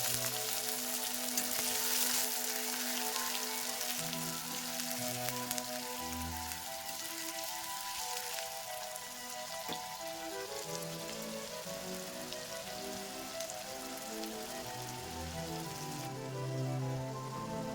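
Chopped onions frying in hot oil with cumin, bay leaf, whole garam masala and a spoon of sugar, for chana masala: a steady, busy sizzle and crackle that continues evenly throughout, moderately quiet with no talk.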